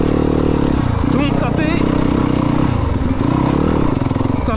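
A motorcycle engine runs loud and steady while the bike moves forward, with revs rising and falling during gear changes in a riding lesson on shifting gears; a voice talks over it throughout.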